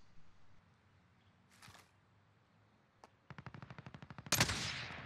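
Gunfire in a video game, a quiet scene with a faint distant shot or two, then a close rapid string of evenly spaced shots ending in a louder final blast.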